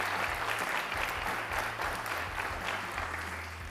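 Sustained applause from an audience at an archery World Cup Final draw show in Tlaxcala, a steady dense wash of clapping with no pause over a low background hum.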